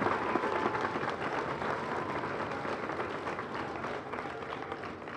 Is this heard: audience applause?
yes